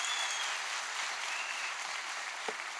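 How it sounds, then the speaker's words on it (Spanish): Audience applause fills a talk venue, a dense, steady wash of many hands clapping at a moderate distance for the full stretch, with no voices over it. "Un aplauso para todos ellos"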